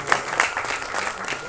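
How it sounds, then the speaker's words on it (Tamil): Steady, full audience applause fills a brief moment at an album song screening festival, close and continuous with no voices on top. "ஒரு பெரிய கைத்தட்டல் கொடுத்துடலாம் ப்ளீஸ்."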